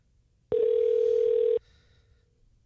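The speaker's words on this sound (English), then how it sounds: "You're ringing someone's phone." Telephone tone heard while a randomly dialed number connects, a single steady electronic beep about one second long, loud and clean over a quiet background hum.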